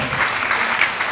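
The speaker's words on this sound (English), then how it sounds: "Please, let's give her a round of applause." An audience at a fellowship demo event applauds a medical student speaker, a dense steady wash of clapping close and full throughout.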